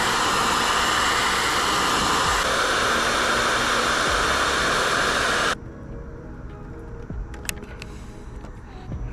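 A hair dryer on maximum heat blows a loud, steady broadband rush at a car emblem on a 2022 Subaru WRX, then cuts off abruptly partway through, leaving a quieter background with a few faint clicks.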